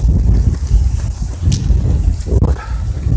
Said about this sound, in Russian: Конечно, ветер сегодня серьезный.